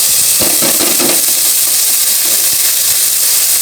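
Corned beef drops into a hot pan and sizzles loudly, a dense, steady hiss of frying with a few soft knocks and clatters early on and no speech.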